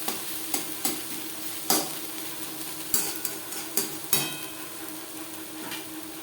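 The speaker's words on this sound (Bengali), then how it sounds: "গ্যাসের ফ্লেমটাকে মিডিয়ামে করে দিয়ে আরও 2-3 মিনিট নাড়াচাড়া করে নেব।" Data shak (stem greens) frying with onion in a pan is stirred on the stove. A quiet, steady sizzle runs under sharp, irregular clinks and scrapes from the spatula, with no voices.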